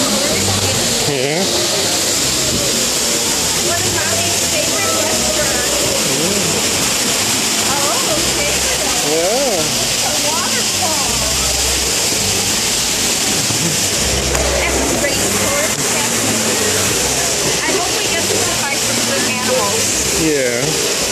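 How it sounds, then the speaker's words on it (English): An indoor waterfall at the Rainforest Cafe restaurant pours with a loud, constant rushing roar that fills the room, while people talk over it throughout. "He likes the waterfall."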